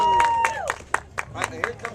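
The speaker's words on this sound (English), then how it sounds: "Listen to that crowd." An audience at a magic show gives a short burst of applause, scattered claps ringing out over crowd murmur, while someone speaks over it at close range.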